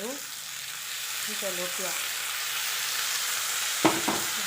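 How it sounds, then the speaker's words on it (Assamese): Onions stirred and frying in a pan for fish curry give a steady, close sizzling hiss throughout, with a voice speaking briefly at the start and a couple of sharp utensil knocks near the end. "এনেকৈ লৰাই অলপমান ভাজি থাকিম। পিঁয়াজখিনি প্ৰায় ৰঙচুৱা হৈ আহিছে।"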